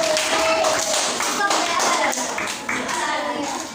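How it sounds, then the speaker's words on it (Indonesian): Students clapping together during a school orientation session for new civil-service teachers, a dense burst of hand claps that holds steady and then tapers slightly, with voices murmuring underneath. "Tepuk tangan."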